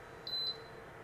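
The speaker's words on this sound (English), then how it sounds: "So there, the timer just completed, and the unit shuts off automatically" An iSiLER induction cooktop gives a single short, high electronic beep as its timer finishes, clear and close over a faint background hum.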